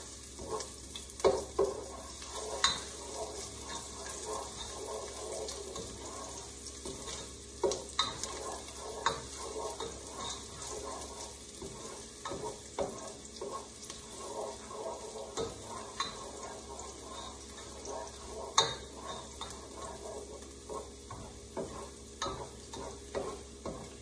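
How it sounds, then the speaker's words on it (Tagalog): Sliced ginger fries in a pan with a steady, close sizzle while it is stirred, with repeated scraping clicks and taps of the utensil throughout and no talking. "Lagay ko na rin ang luya."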